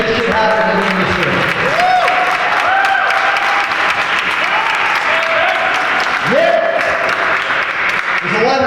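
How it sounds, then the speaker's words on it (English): Audience at a Jersey City tech meetup applauds loudly and steadily for the full stretch, a dense wash of clapping with some cheering and voices mixed in. "So everyone give a round of applause for everyone who's here that is making shit happen in the industry."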